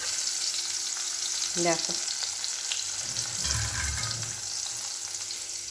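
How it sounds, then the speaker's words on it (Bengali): Spiny gourds (kakrol) fry in hot oil with a steady, crackling sizzle, a bit of stirring midway and a single brief spoken word over the cooking. "আগে কাঁকরোলগুলো ভেজে তুলে নিয়ে আনি।"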